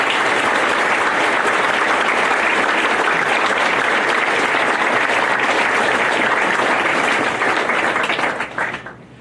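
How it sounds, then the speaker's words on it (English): A large audience at a veterans home groundbreaking applauds service members with dense, loud, sustained clapping lasting about eight seconds before tapering off at the end. "How about a round of applause for all the service members in this audience?"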